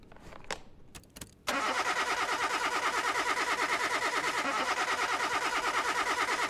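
A car engine cranks on the starter during a compression test on a broken-down customer vehicle. After a few clicks and short noises, a loud, steady, rhythmic cranking churn starts and runs without a break to the end.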